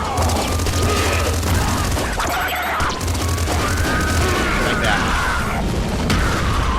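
Dense, loud gunfire and crashing impacts from shooting at a boss in a video game fill the whole stretch almost without a break, with game effects layered over a player talking.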